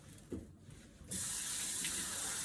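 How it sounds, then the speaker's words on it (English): Tap water running while a bell pepper is rinsed at a kitchen sink, a soft clunk and rustle followed by a sudden steady hissing stream that stays on to the end, with no talk. "rinsing it really well to make sure that I don't have any seeds in there"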